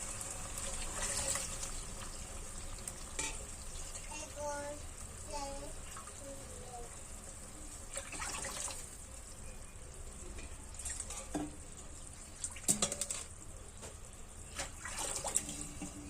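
Water runs steadily into a cooking pot for a one-pot macaroni soup, making a continuous gushing, splashing sound throughout while a voice talks over it.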